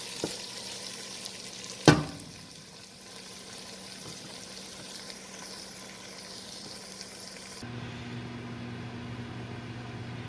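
Ackee cooks down in a pan for an ital Jamaican dish, giving a steady, soft frying sizzle with one sharp clink of a utensil early on. It stays close and even throughout, with no talk.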